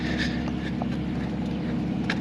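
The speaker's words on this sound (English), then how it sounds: "That's a loud truck." A loud truck passes along a city street, filling the moment with a dense, steady low rumble and road roar, with faint scattered higher noises on top.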